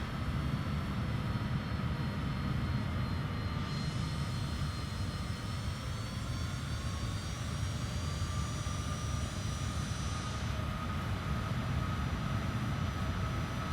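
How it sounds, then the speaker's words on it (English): Steady, loud jet engine roar from an Avianca airliner going around in Microsoft Flight Simulator, a continuous broadband rumble with a faint whine on top, holding level through the whole stretch with no talk. "I hear their jet roar from their Avianca 9 go-around"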